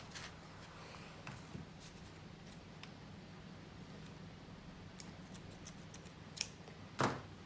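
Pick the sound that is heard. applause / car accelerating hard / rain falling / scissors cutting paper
scissors cutting paper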